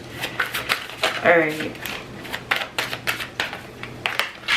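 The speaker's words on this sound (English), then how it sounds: "let me shuffle. We need a really big shuffle." Tarot cards are shuffled in a long, vigorous run of quick papery riffles and taps, close by, while a person speaks briefly.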